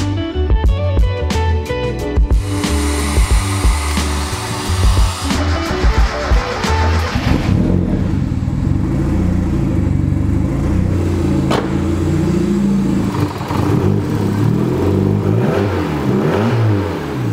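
A turbocharged Mazda Miata with a new exhaust revs hard, loud and close, its throttle blipped repeatedly before settling into a sustained, rough, rising and falling roar with no talking over it.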